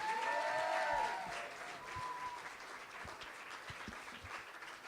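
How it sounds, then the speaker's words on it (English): Audience applause for poet Charly Cox at a spoken word poetry night, a steady wash of clapping with a few whoops at the start, fading slightly but continuing throughout. "Big round of applause for Charly Cox."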